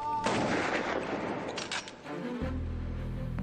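A pistol shrimp's snap makes a collapsing-bubble bang that comes as a sharp, loud burst, followed by a noisy crackle and then a low sustained drone.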